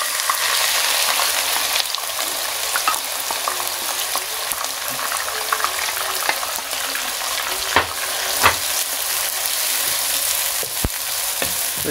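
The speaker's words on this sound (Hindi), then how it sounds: "इस प्याज को हम थोड़ी देर के लिए फ्राई करेंगे।" Onions frying in a pan for bitter gourd (karela) curry, a steady broad sizzle running throughout with occasional stirring clicks and scrapes, close and fairly loud, no talking.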